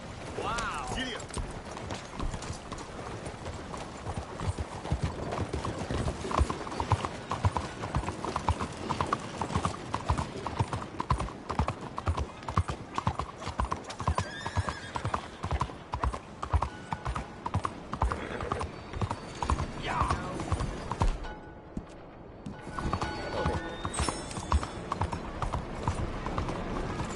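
Horse hooves galloping in Red Dead Redemption 2, a steady rapid clip-clop rhythm running nearly the whole time, close and prominent, with a rider's voice calling out over it.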